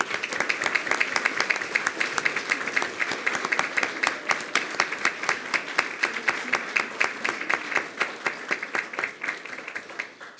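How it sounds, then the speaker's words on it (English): School board meeting audience applauding a district team, a long round of clapping with distinct, rhythmic hand claps standing out, steady and fairly close for about ten seconds. "How about we give them a round of applause?"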